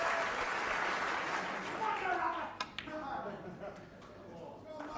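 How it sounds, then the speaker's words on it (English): A Crucible crowd at a World Championship snooker final rises in a standing ovation, sustained applause filling the hall while a commentator speaks over it. "And this crucible crowd give him a standing ovation."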